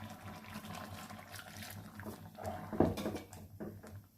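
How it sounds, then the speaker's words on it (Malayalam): Water is poured into a simmering Kerala-style pumpkin curry (podi pulinkari) with ground coconut, making a soft, close splash and trickle that peaks briefly near the end over a low kitchen background. "കുറച്ച് വെള്ളം കൂടെ ചേർക്കാം"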